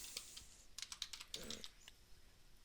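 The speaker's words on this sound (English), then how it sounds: "I'm going to have you type in your name here." Computer keyboard typing nearby, a short run of light, uneven keystrokes with a quick cluster in the middle, fairly faint and alone.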